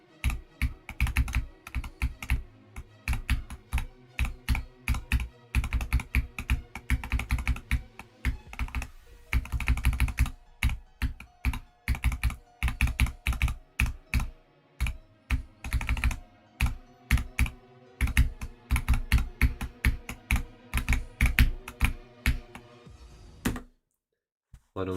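Rapid, continuous typing on a computer keyboard, close and fairly loud, with dense clacking keystrokes in uneven bursts for most of the stretch before stopping near the end.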